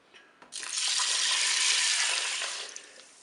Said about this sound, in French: Je dépose le blé dans la cuve de mon cookéo et je vais verser mon eau.